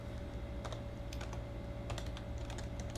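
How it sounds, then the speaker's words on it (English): Keys clatter on a computer keyboard in short irregular bursts of typing, close and crisp over a low steady hum, with no one speaking. "and then you can type your text."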